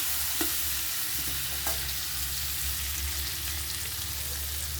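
Diced potatoes and green jackfruit fry in hot oil in a pan, giving a dense, even sizzle with a few soft scraping stirs near the start, close and with no voices.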